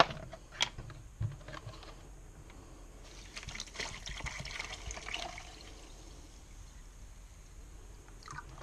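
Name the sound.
filling a container with water for salt solution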